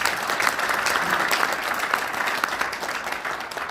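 Steady applause from a large audience at a forum's inaugural special lecture fills the room, a dense continuous patter of many hands at an even level throughout.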